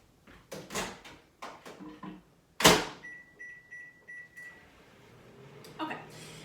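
Someone loads a microwave oven: a series of close clicks and clatter, a sharp door slam, then a short run of beeps as it is started, with a faint closing click and quiet talk near the end.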